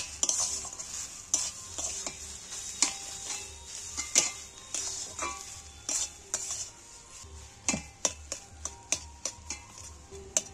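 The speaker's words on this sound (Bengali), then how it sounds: "এইবার আমি পনিরটা দিয়ে ভালো করে নাড়াচাড়া করে নেব, একটু ফের নেড়ে ভালো করে কষিয়ে নেব।" Grated paneer stirred and sautéed in a pan, a soft continuous sizzle under repeated metal spoon scrapes and taps that grow quicker and more rhythmic toward the end.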